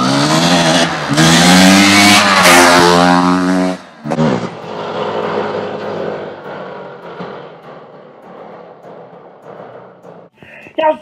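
Dirt bike engine revving loudly up close and rising in pitch, then cutting away as the bike speeds off, with a fading rumble and clatter afterward.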